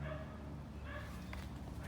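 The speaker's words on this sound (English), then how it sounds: "God, it's a noisy dog." Dog barking and yipping in a Georgia backyard garden, short, moderately close yaps at a low level against a steady background of outdoor noise.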